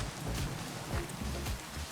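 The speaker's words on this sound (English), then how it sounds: "But now it's thunderstorming" Rain during a thunderstorm in the Minecraft video game, heard as a steady, even hiss of falling rain with no distinct thunder clap, running throughout at a moderate level.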